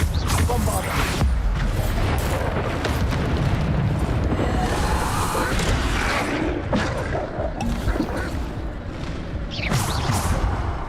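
Bombarda spell explosions in Hogwarts Legacy on hard mode trials, a loud run of booms and bursts with whooshes in dense combat, with a voice talking through it.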